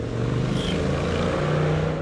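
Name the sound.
loud motorcycle passing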